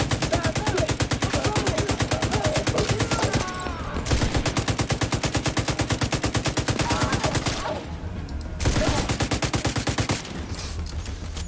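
Rapid, sustained machine gun fire in the shooter The Division 2, loud and rhythmic with steady repeated bursts broken by short pauses over about eleven seconds.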